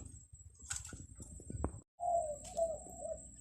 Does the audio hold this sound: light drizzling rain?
no